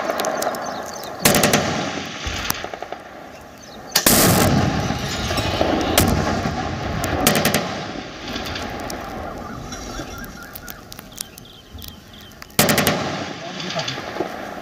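Bursts of heavy gunfire at the India-Pakistan border ring out loud and sharp, with long crackling volleys and single booming shots between quieter stretches, while voices talk faintly under it.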